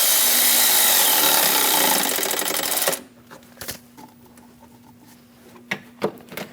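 A tool tightens the hose clamp bolt in the engine bay of a Chevrolet Express 2500 van, starting with a loud, dense burst of rapid ratcheting that stops abruptly and is followed by a few scattered clicks and knocks.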